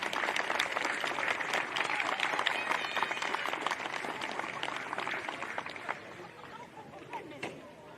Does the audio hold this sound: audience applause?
yes